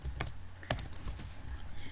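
Quiet clicking of keys on a computer keyboard, a handful of quick taps in an uneven rhythm, close up.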